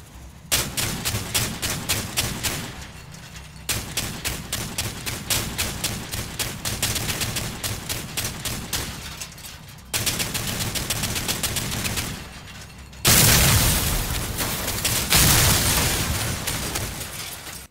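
Rapid automatic weapon fire from a Crossout vehicle loadout of Thunderbolt or Hammerfall guns rattles in long sustained bursts with brief pauses between, loud and close, ending in a heavier, denser stretch of shots.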